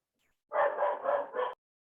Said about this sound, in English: That's not my dog.